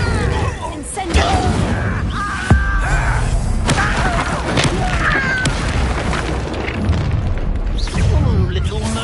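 Incendio fire spell cast in the Hogwarts Legacy video game, heard as a string of booming bursts and crashes through busy combat sound, with voices talking over it.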